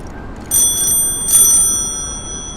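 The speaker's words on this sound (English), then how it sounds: "That guy was like half going to step in the bike lane there until I rang my bell" A bicycle bell rung by a cyclist in a Manhattan bike lane, two quick bright dings close by over steady street noise.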